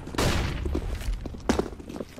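Desert Eagle pistol shots ring out in a Counter-Strike: Global Offensive competitive match on the Cache map, two sharp cracks spaced about a second apart, moderately loud over a low game ambience.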